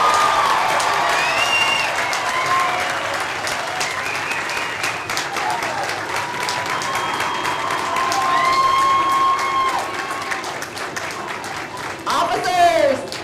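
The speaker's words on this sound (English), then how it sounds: "Let's give an applause to our new graduates," Crowd applause at a military officer training school graduation parade, sustained steady clapping with some cheering and voices mixed in, fairly loud throughout and swelling briefly near the end.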